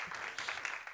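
Audience clapping together in a church, a dense, steady patter of applause held at an even level throughout with no pauses.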